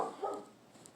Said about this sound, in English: My dog's outside barking at a squirrel.